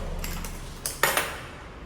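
A few light clicks and a sharper clatter come from a lunch box being opened, brief and close against a quiet background with no speech.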